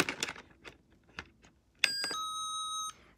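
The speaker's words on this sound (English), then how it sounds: "She better ring the doorbell." A doorbell rings once, a bright sustained chime that rings out for about a second after several faint clicks and taps.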